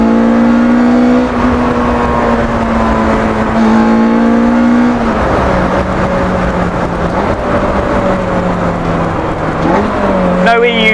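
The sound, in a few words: Lotus S1 car with Honda K20a engine revving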